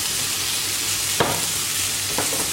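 Chicken masala frying in a pan with a steady bright sizzle, stirred with two distinct scraping strokes of a utensil against the pan.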